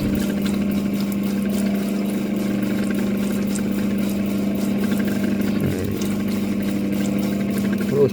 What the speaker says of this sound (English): I'm going to go on a soft stone wheel for this.